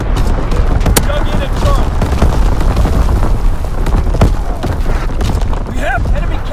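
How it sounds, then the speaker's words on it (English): Artillery strike raining down in Call of Duty WWII multiplayer on the Shipment 1944 map, with repeated heavy booms and scattered gunfire layered into a dense, loud battle din while a voice speaks over it. "Coordinates confirmed. Firing on target."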